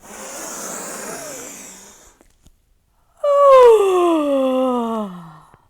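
Children's voices imitate a bear's yawn: a breathy, groaning exhale, then after a pause a louder, drawn-out vocal yawn sliding downward in pitch.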